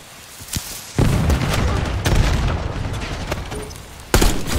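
Frag grenade explosion in Call of Duty: Black Ops 6, a sudden loud boom at about one second followed by rumbling decay, with further sharp bursts of gunfire after it.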